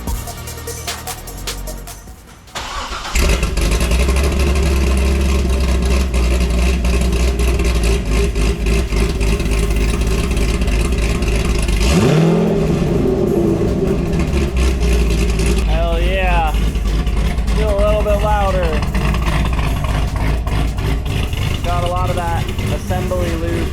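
Chevrolet C6 Corvette fitted with Kooks headers and an X-pipe cranks and fires into a loud, deep idle, with a few throttle blips; a voice speaks over the engine partway through.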